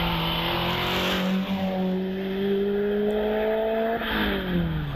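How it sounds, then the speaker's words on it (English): A 2 litre Renault Clio racing up the Prescott hillclimb, its engine a loud sustained howl with rising revs, a brief dip at a gear change, and faint tyre noise. "2 litre Renault Clio, inch perfect out of the S's."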